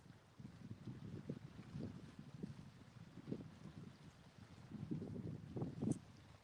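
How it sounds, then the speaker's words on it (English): Hard wind gusting outdoors near a shore, rumbling low and steady with stronger buffets swelling toward the end, no talking. "wind is blowing hard through here"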